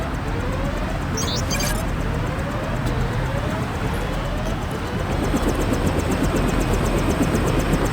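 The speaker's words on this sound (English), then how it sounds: "Take the helicopter back to base." A helicopter in Deus Ex drones steadily and loudly throughout, a dense continuous rotor and engine roar with a faint high whine on top and no pauses.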